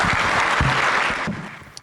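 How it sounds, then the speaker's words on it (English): Brief burst of audience applause at a public event with Ontario's finance minister, dense clapping that fades out within about two seconds. "Big round of applause for our MBOT."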